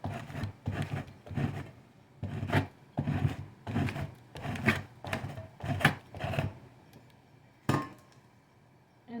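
A blade scrapes fat from rabbit hides outdoors in a woodland homestead setting, a close run of about ten rhythmic rasping strokes with short gaps, then a final lone stroke.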